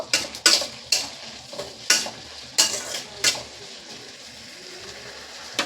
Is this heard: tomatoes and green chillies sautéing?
yes